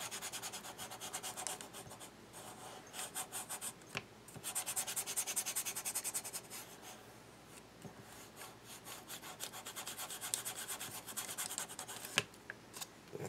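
Rubbing on a carved wood piece gives a steady, close scratchy friction with repeated short strokes and a few sharper scrapes, alone with no talking.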